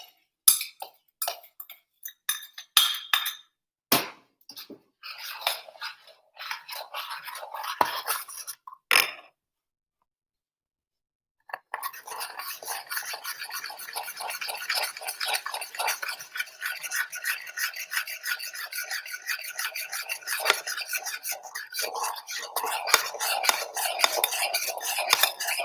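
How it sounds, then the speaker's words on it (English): A spoon scrapes and clinks against a bowl while butter, sugar and salt are stirred into milk, in quick repeated strokes with a short pause midway before the stirring resumes busily. "So I am stirring the butter, the sugar, the salt, all into this"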